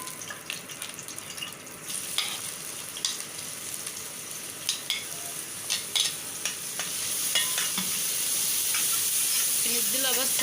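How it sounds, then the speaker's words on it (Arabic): Onion sautés in hot oil with garlic for basmati rice, a continuous sizzle broken by frequent spoon scrapes and clinks, growing louder and denser toward the end, with no talking. "بنديلها بس للبصله تشويحه"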